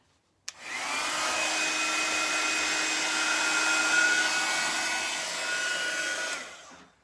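Heat dryer blowing on Distress Oxide colouring, a steady loud whooshing whine that switches on with a click and runs about six seconds before stopping, close and alone.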